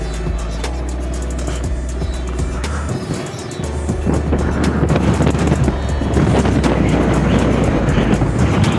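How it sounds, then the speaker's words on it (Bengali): Strong mountain wind in Spiti Valley gusts over the microphone as a steady, rumbling roar, building louder around the midpoint and staying heavy to the end, with no talking. "প্রচণ্ড জোরে হাওয়া বইছে, বুঝতে পারছেন? বাপরে কি জোরে হাওয়া বইছে।"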